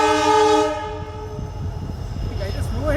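A train's horn sounds loudly for about the first second as the train approaches a level crossing, then fades into rumbling track noise. A voice follows near the end.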